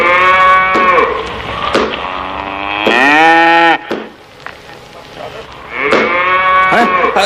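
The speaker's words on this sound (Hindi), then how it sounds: "रतन देव ने भैंस के मुंह पर डंडे मारने शुरू कर दिए" A buffalo being struck on the face with a stick during milking lets out loud, drawn-out lowing moans, three long calls with a pause between them, close and clear with no talking.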